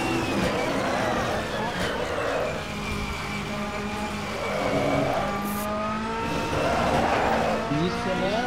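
A BMW M4 DTM race car in the Assetto Corsa racing game, its worn front tyre dragging and squealing in repeated long skids over a steady engine drone, with a voice talking over it.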